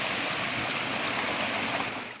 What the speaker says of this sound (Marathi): पाण्याचा प्रवाह बघू शकता, दुधासारखं पांढरं पाणी दिसतंय.